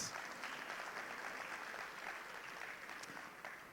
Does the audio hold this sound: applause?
yes